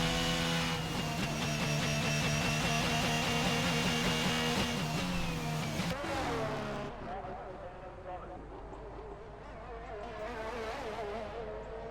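A race car lapping the Miami track on fresh tyres, a loud high-revving engine whine that shifts pitch through gear changes, then drops and fades before rising again, with commentary over it.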